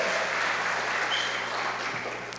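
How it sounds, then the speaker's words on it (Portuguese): A church congregation applauds its media team, a sustained and even wash of clapping from many hands that fills the room without any speech over it. "Vamos aplaudir esse pessoal da mídia"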